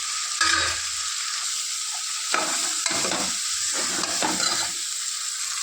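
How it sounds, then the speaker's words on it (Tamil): Vegetables sauté in a hot pan with coriander, chili and turmeric powder, giving a steady sizzle and hiss broken by several close scraping stirs of a spoon, with no talking. "ஒரு ஸ்பூன் மல்லிப்பொடி, ஒரு ஸ்பூன் வத்தப்பொடி, கொஞ்சோண்டு மஞ்சள் பொடி எல்லாம் போட்டு நல்லா வதக்கணும்"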